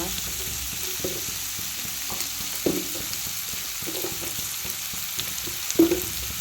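Onions sautéing in a pan with a pinch of salt, a continuous soft sizzle with scraping stirs and a few sharper clinks of the spatula, one louder knock near the end.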